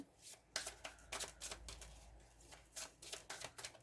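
Tarot cards are shuffled by hand with some slipping out of the deck, giving a close run of crisp riffling slaps and flutters in uneven bursts, with no talking.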